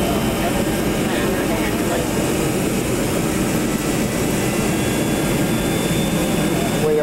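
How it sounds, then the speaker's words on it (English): An airliner's jet engines roar steadily and loudly while taxiing to the terminal in Hawaii, a constant broadband whine and rumble heard from inside the plane. "taxiing to the terminal in Hawaii"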